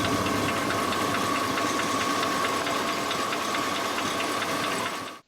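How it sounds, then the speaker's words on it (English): A pushrod engine with a lifter tick idles with a rapid, even metallic ticking over a steady hum, loud and close, cutting off abruptly at the end. "This is what the lifter tick sounds like."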